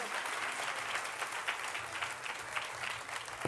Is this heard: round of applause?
yes